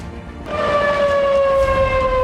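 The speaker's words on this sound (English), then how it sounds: "The sirens have just sounded again in Boulder" A loud, steady outdoor flood warning siren in Boulder, Colorado, wails on a sustained tone during flash flooding, cutting in after a brief moment of rumbling background noise.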